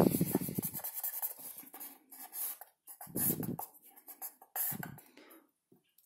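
Pencil sketching a quick portrait study on paper, with soft scratchy strokes and rubbing in short bursts separated by pauses, close and moderately quiet.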